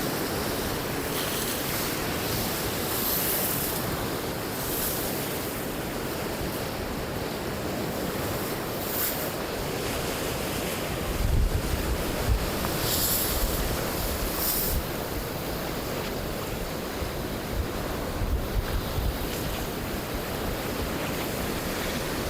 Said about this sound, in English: We've got a fairly stormy day out here today, and so we've got some pretty good eruptions happening